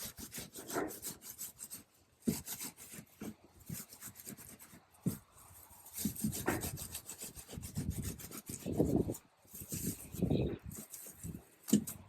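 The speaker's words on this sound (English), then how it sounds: "I also stapled a little piece of the carpet on a block so that I could use it like a sander" A carpet-covered wooden block is rubbed over oat heads to thresh the grain, giving close, faint, irregular scratchy strokes in uneven bursts with short pauses.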